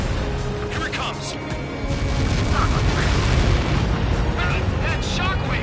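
Missile blast shockwave in Ace Combat 7, a deep rolling boom and roar that swells and rumbles on, with voices talking over the din.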